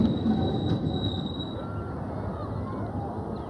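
A train bound for Orlando, Soweto rumbles along with a thin wheel squeal whining above the low rolling noise, steady and fairly close, with faint voices underneath.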